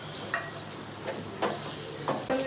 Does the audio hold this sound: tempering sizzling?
yes